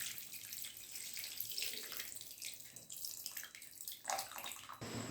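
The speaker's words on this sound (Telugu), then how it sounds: "దీనిలో ఇప్పుడు చింతపండు గుజ్జు పోసుకోవాలి." Tamarind pulp poured into a pot of cooking vegetables gives a steady liquid splashing and trickling, fairly faint and close, with no talk over it.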